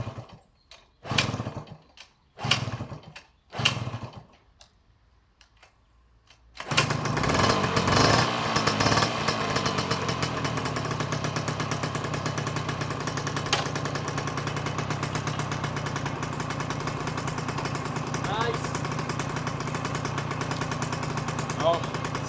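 A 1984 MTX 50cc moped engine is started for the first time: several short sputtering cranking attempts, then it catches and runs loud and steady, a buzzing two-stroke drone held close and continuous to the end.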